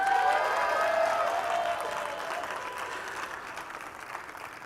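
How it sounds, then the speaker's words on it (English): Applause from a conference audience at a general session fills the room, steady and dense at first, then gradually thinning and fading over a few seconds with no one speaking. "And one more round of applause for the Kris Hayashi."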